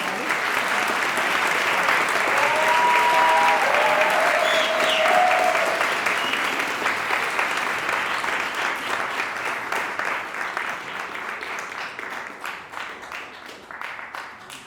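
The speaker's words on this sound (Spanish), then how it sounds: "nos hacen un favor y nos regalan un aplauso" Audience applause at a live journalism event, a dense sustained burst of clapping that slowly thins and fades out toward the end.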